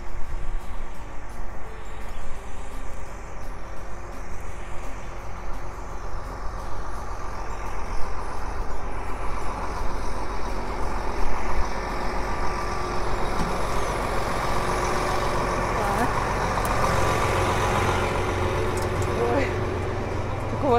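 A tractor with a crop-residue shredder runs in a field, its diesel engine droning steadily and growing louder and rougher toward the end, while someone talks over it.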